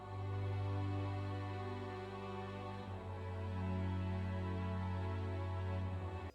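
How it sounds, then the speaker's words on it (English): Sustained strings and choir move slowly through a sad chord progression, full and legato, with a chord change near the middle and low pulsing entering at the end, with no voices speaking. "I came up with this chord progression on the strings and the choir"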